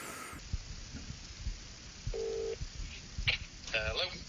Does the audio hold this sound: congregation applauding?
no